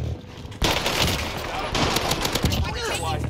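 Call of Duty Warzone gunfire sounds as a loud, sustained barrage of rapid automatic shots, dense and continuous from start to finish, with voices mixed in.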